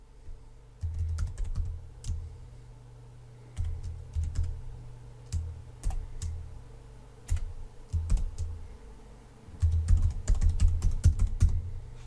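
Computer keyboard typing as a name and email are entered into a form, quick bursts of clicking keystrokes with short pauses between, close and fairly quiet with no talking.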